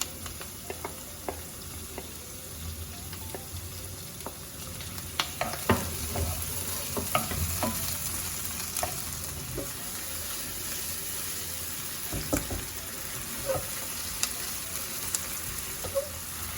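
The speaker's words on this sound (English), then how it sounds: "When the onion is slightly brown, we can put in the tomatoes." Tomatoes dropped into a pan of lightly browned frying onion give a soft, steady sizzle, broken by scattered stirring clicks and scrapes of a utensil at close range, with no talk.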